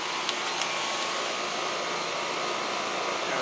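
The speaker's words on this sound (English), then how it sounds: "Gold Series 3-ton 13-seer heat pump starting up in cool mode." A Gold Series 3-ton 13-SEER heat pump with an Alliance scroll compressor runs in cool mode, giving a steady, loud broadband whoosh of fan and compressor close by, with a few faint clicks near the start.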